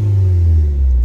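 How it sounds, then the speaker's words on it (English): A car engine with its valved dump pipe closed rumbles with a steady low drone, held at a raised idle for about a second, fairly loud and close. "Give it some revs."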